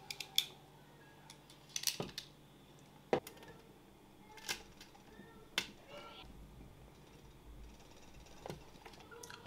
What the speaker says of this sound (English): All I'll need to do is cut the sheath off